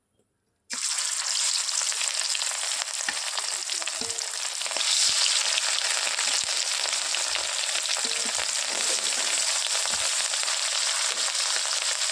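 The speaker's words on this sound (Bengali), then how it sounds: "এবার আমি মাছটাকে ভেজে নেব" Rui fish frying in hot salted oil in a wok, a loud, steady, dense sizzle that bursts in after a brief silence and holds unbroken, with a few faint low knocks of the pan or utensil beneath.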